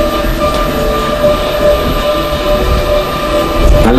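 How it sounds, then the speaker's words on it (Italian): Electrically powered 30-meter monorail train riding through a miniature park, heard from onboard as a loud, steady rumble and hum with faint wheel clicks throughout. "The monorail train we are traveling with is electrically powered, is 30 meters long"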